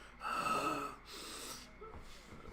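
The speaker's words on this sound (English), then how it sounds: "all I hear is like you're almost wheezing" A person breathing heavily, with a sharp gasping, wheezy inhale followed by rougher exhales and snorts, close to the microphone.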